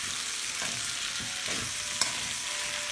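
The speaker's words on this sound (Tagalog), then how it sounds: "sunod naman, lagay ko na yung kalabasa." Squash pieces go into a pan of vegetables sautéing for a Filipino ginisang gulay, giving a steady close sizzle with faint scraping stirs and one small clink.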